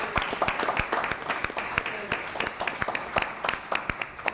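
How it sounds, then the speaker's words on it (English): Scattered applause from a small audience at a city school board meeting, individual sharp hand claps standing out clearly against a softer clapping background, moderately close and lasting throughout. "Would the audience please join me in giving your Board of Education a round of applause"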